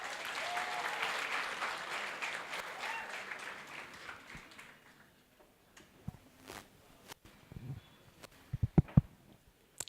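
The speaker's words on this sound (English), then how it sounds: "So please give her a big round of applause." A crowd claps steadily for several seconds, then the applause fades out, leaving a few scattered claps and small knocks.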